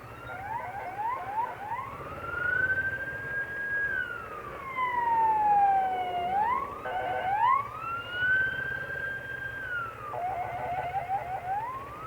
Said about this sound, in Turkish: hemen hemen her akşamda böyle bir ambulans geçiyor yani buradan